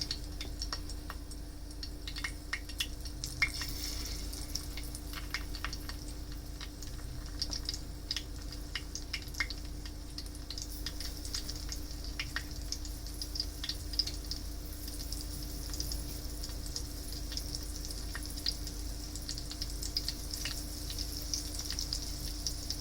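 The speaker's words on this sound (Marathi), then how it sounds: "हे चांगलं थोडं फ्राय होऊ नंतर पलटी मारूया" Banana slices coated in rice flour fry over medium heat in a pan, giving a steady, even sizzle with faint scattered pops and ticks throughout, close and continuous with no talking.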